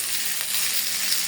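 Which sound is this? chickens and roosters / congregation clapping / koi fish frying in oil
koi fish frying in oil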